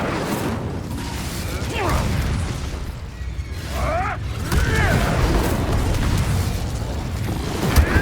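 An Incendio fire spell cast in Hogwarts Legacy bursts into a loud whooshing roar of flame with booming pops, over swirling game effects and some speech.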